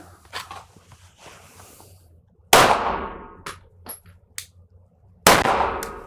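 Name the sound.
single pistol shot fired in shooting training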